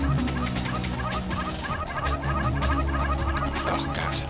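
Baby desert wolves in the online game Ragnarok yip and bark over and over in a dense, shrill chorus, loud and continuous over game music, with a gobbling, squawking quality.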